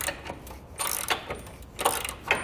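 A ratchet wrench with a 19mm socket tightens bolts on a Roadmaster Direct-Connect base plate kit mounted to a vehicle frame rail, making close, bursty metallic clicking in several quick runs, with no talking.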